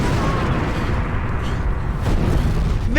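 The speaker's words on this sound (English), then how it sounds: "Very big explosion." A very big explosion in a Doctor Who episode, a dense heavy rumbling roar sustained throughout, loud and close, with a brief voice near the end.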